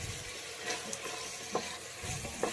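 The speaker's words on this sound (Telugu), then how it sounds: "ఈ వెజిటేబుల్ అన్నిటినీ కూడా కొద్దిగా ఆయిల్ వేసుకొని ఒక 2 or 5 మినిట్స్ ఫ్రై చేసుకోవాలి." Vegetables frying in a little oil for biryani, a steady bright sizzle with occasional soft stirring scrapes and spoon knocks, close up and fairly quiet, with no talking.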